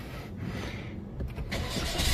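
A Toyota Wigo hatchback's engine cranks and catches, the noisy starter whir giving way to a rising mid-pitched engine rumble recorded close by, with no talking.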